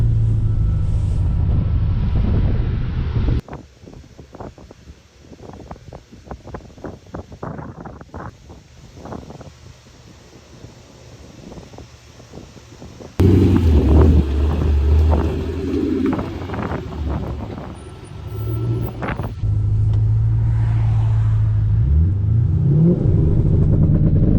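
A Ford Mustang revs hard and spins its tires during test rips, a loud engine roar with rough wind-buffeted rumble that drops away and then swells again to a sustained rev.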